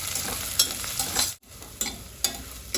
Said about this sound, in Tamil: நம்ம இந்த வெங்காயத்தை நல்லா வதக்கி எடுத்துக்கலாங்க.